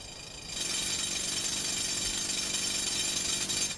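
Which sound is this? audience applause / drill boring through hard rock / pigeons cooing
drill boring through hard rock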